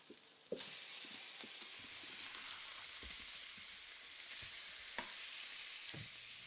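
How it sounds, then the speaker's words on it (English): Fish browning in a covered frying pan, a steady close sizzle and hiss broken by a few sharp clinks and scrapes of stirring, without voices. "After browning on one side, turn the fish to brown the other side."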